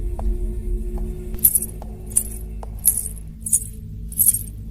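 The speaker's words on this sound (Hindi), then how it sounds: "जैसे किसी के पायल या चेन के हिलने की आवाज आई।" Metallic jingling in short bursts, like a chain or anklet shaking, repeating four or five times over a low steady background rumble.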